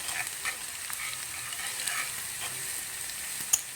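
Cauliflower stems deep frying in hot oil over a low flame, with a steady close crackling sizzle, faint bubbling pops, and one sharper spike near the end.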